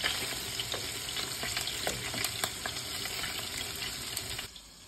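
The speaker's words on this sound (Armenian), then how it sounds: "Արդեն երկու կողմից լավ տապակվել է" Beef patties sizzling and crackling in a hot pan, a steady frying hiss with scattered pops, close up, cutting off abruptly at the end.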